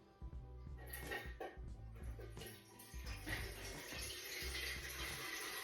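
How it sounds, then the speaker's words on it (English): Melted beeswax poured into a larger batch of candle wax, giving a steady liquid splashing and trickling close by that runs without pause and without talk. "I'm pouring my beeswax into my main wax."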